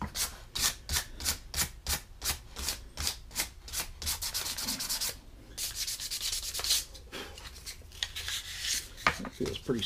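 Sandpaper rubs a handmade wooden spoon in quick rhythmic strokes, a rapid run of short rasps giving way to longer, smoother sweeps, close and fairly loud with no talk over it.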